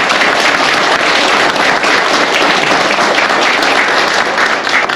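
A large audience applauds loudly and steadily for about five seconds at a smart semiconductor city joint policy agreement ceremony, held as a local election campaign event in Gyeonggi Province, with dense clapping and no pauses.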